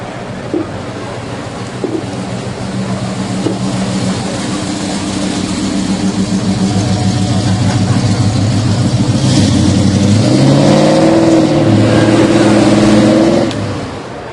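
A classic car's V8, a 402 rated around 350 horsepower, rumbles at a steady idle, then climbs into louder revving toward the end, with a continuous outdoor wash of background noise at a custom car boulevard event.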